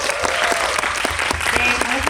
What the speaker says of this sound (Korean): 강호동 배우님께 다시 한번 박수 부탁드립니다.